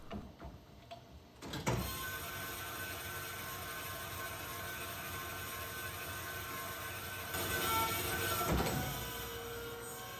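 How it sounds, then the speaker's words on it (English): Machine honing a cylinder of a rare 1948 Keller Super Chief engine with a coarse stone, a steady whirring grind that swells partway through, with sharp clunks near the start and end. "a coarse honing stone is used to remove material quickly and get you close to your finished size"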